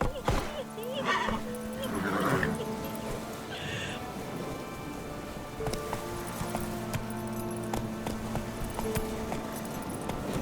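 Roach, the horse in The Witcher 3: Wild Hunt, gives a loud neigh near the start, then trots on with a rhythmic clip-clop of hooves under game ambience and music.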